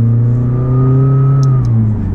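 Loud, steady engine drone heard from inside a McLaren 600LT with little sound deadening, a deep hum with a rising whine, then easing off slightly near the end.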